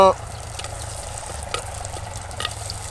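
Chicken curry with green chillies stirred in a clay pot, a soft steady sizzle with occasional scraping stirs and clinks, fairly quiet after a brief louder knock at the start.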